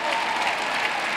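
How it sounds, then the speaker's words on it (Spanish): A crowd of listeners applauds at a religious testimony event, dense and steady clapping heard alone in a short burst. "¿Le están aplaudiendo a Michael?"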